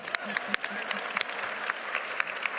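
Scattered clapping from a small crowd, steady and moderately loud, with a few sharp individual claps standing out.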